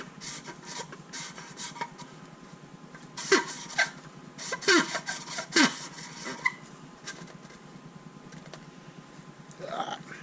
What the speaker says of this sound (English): start sanding.